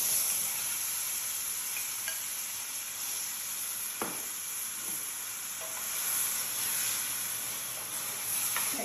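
Shawarma meat sizzles in a hot pan with a soft, steady hiss and a few faint pops and clicks, heard alone at close range.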